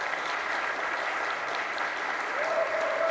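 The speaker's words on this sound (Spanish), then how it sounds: "un fuerte aplauso por favor para Alex" An audience at the FIL Guadalajara book fair gives author Alex Toledo a warm round of applause, dense steady clapping that fills the hall while a faint voice speaks near the end.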